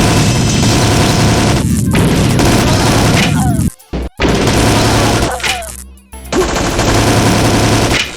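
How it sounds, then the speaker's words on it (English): Rapid bursts of Scorpion machine gun fire in System Shock, loud and close, with booming impacts and crashes; the firing breaks off briefly around the middle before the dense chatter resumes. "Talking about the Scorpion, the way the recoil forces our character backwards as we hold the trigger"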